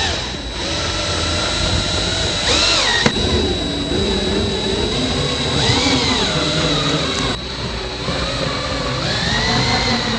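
Power drill driving pocket screws into a diagonal wall cabinet during assembly, several loud whirring motor bursts with rising pitch, separated by short pauses, alone without talk.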